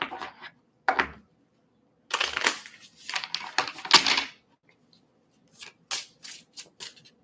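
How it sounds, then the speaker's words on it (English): A deck of tarot cards is shuffled nearby in several short, dry riffling bursts, separated by brief pauses and a few light taps at the end. "Oh, I'm gonna shuffle. I'm gonna shuffle."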